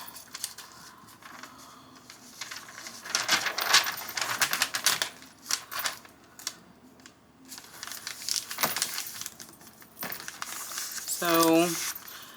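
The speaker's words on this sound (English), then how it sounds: "So we're just going to fold that in half." A large ledger paper page is folded in half by hand, giving bursts of close crinkling and rustling with pauses between, ending in a sharp crisp crease.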